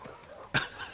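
A single short dog bark or yip from the video game The Last of Us Part II, one brief burst over a quiet game background.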